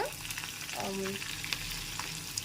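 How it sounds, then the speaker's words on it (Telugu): Cumin, fenugreek, curry leaves, garlic and mustard seeds tempering in hot oil crackle and sizzle loudly and continuously, with quick popping bursts close by. "కరివేపాకు వెల్లుల్లిపాయలు ఆవాలు సో ఇవన్నీ కూడా మనం తాలింపు వేసుకుంటున్నాము"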